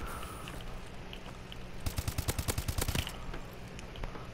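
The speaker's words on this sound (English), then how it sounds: "The gun I'm using is the AK" Rapid burst of automatic rifle fire from an AK-12 in Call of Duty: Advanced Warfare, a dozen or so sharp evenly spaced shots in about a second over steady game ambience, fairly close and loud.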